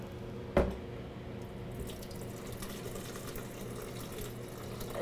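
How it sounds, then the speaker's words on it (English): Vegan foie gras mousse mixture pours into a blender. A brief knock opens a steady, soft stream of liquid flowing and splashing into the container, fairly quiet and close, with no talking. "we are going to add our mixture into the blender"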